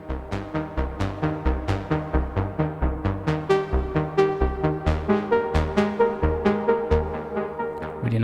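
Synthesizer arpeggio played on an Ableton Push 3 in an ambient live setup: a steady stream of plucky, evenly spaced notes, about four per second, moving through a repeating pattern, with clear, close tone and no talking.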